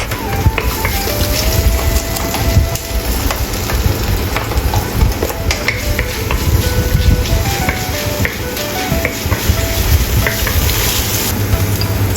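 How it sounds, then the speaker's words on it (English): Chopped garlic sizzles and crackles steadily in hot oil while being stir-fried, with a continuous hiss, occasional clinks of a utensil and a faint low hum in the background. "Stir-fry chopped garlic."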